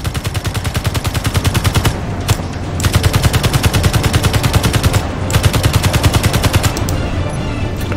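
A turret is hit by continuous, rapid automatic gunfire in the video game Space Engineers: loud, close, rattling bursts that run for several seconds with only brief breaks.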